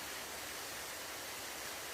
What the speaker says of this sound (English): as you can hear in the background, we're at the waterfall at the other side of the dam